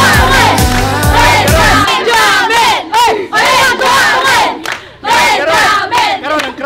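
A crowd roars and chants for Jamin at a live competition event, loud and sustained, with rhythmic shouting over a steady beat at first, then surging waves of massed cheering and yelling.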